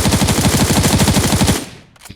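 An AK fires a rapid automatic burst in the mobile shooter Knives Out, loud, close and evenly spaced for about a second and a half before cutting off, followed by a brief faint tail.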